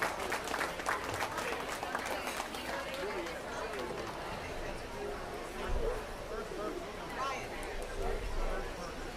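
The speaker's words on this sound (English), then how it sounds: "Let's give them a round of applause." A crowd applauds in the arena at a youth swine market show, with scattered clapping and background chatter under a fairly soft, steady wash of noise.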